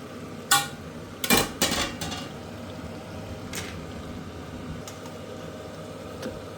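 Karasla fish being turned as it fries in a pan on low heat: a few sharp clinks and scrapes of a utensil against the pan, then quieter sizzling with occasional light knocks.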